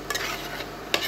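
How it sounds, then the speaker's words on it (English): Oil sizzles steadily in a pan of Savoy cabbage with a soft, crackling hiss, and a brief utensil clink cuts through near the end. "The cabbage is sizzling."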